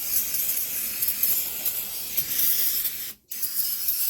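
A continuous hissing spray from an aerosol can of brake cleaner on a 2020 Jeep Wrangler, close and loud, cutting off briefly near the end before resuming.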